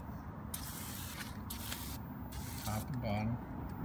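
Cleaner is sprayed onto the rail of a CNC Shark HD 5 router in several short, sharp hissing bursts, close up and loud, with a few quiet murmurs of speech near the end.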